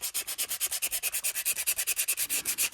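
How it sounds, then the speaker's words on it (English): Sandpaper rubbed by hand along a guitar neck to remove small scratches, a steady back-and-forth rasp of about ten even strokes per second, close and alone. "that will be done simply with sandpaper"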